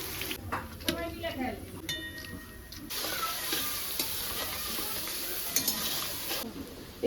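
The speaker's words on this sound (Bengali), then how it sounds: "আমি আলুগুলো একটু ভিজিয়ে ভেজে নিচ্ছি" Soaked potatoes fry in a pan while being stirred, a moderate sizzle with scraping and light clinks of a utensil, faint talk mixed in at times.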